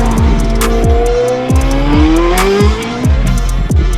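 A brand new Porsche 718 Spyder RS (GT4 RS Spyder) charges up a mountain pass in the evening, its engine revving hard and climbing through repeated quick gear shifts, loud and close with no voices.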